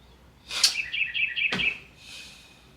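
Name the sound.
bird chirping outside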